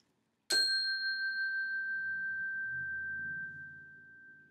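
A single classroom chime is struck once with a clear ringing attack, then a steady, pure tone sustains and slowly fades over several seconds in a quiet room.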